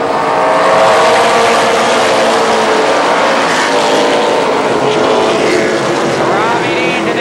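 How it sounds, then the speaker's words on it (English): A race car roars hard along the backstretch at Columbus Motor Speedway, the loud engine note climbing steadily as it accelerates, with crowd or track noise and a commentator's voice blended underneath. "he accelerates, and we are back racing"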